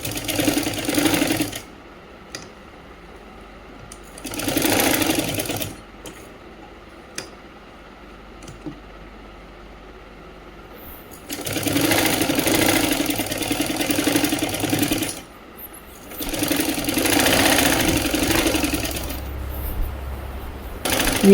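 Sewing machine stitching the seams of a Patiala salwar, running in three or four separate bursts of a few seconds each with quieter pauses between, close and fairly loud, no talking.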